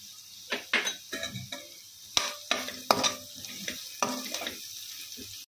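A stuffed crab filling with salt, turmeric and cashew pieces fries in a pan. A spatula stirs and scrapes in repeated bursts over a gentle sizzle, with occasional clinks against the pan.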